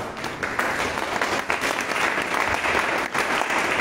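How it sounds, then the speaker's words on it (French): Sustained audience applause at a youth conference, a dense, steady clapping from a crowd holding at even loudness throughout. "Est-ce qu'on peut acclamer pour cette version?"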